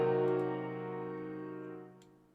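A half diminished seventh chord is played once and left to ring, a single sustained harmonic chord that slowly decays over a couple of seconds, clear and alone.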